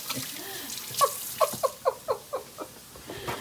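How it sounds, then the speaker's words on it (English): Hands being washed under a running kitchen tap, a soft stream of water with a run of brief splashing pulses, close by with faint voices in the background. "Better wash my hands."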